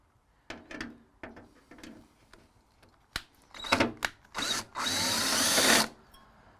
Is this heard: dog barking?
no